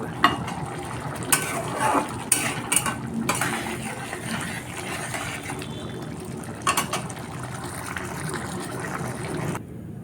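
Scraping and scrubbing against a hot metal wok with irregular clanks and rattles, moderately close, with no talking.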